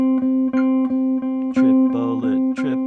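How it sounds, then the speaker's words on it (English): Guitar triplets played against a steady metronome click: an even electronic pulse runs throughout, and in the second half plucked guitar notes come in, three per beat, clear and close. "a triplet is going to be 3 notes per click."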